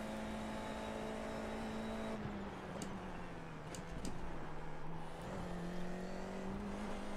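A TCR touring race car in the iRacing sim, its engine droning steadily with clear shifts and rising pitch as it accelerates, loud and close with no talk.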